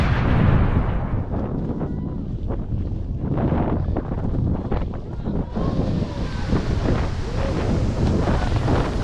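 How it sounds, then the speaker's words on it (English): Strong wind buffets the microphone in the open near Iceland's geysers, a loud continuous low roar with gusts swelling and easing throughout and no talking. "it's really windy"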